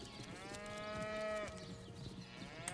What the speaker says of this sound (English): And I can hear cows.